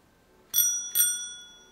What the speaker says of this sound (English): Ding ding means go.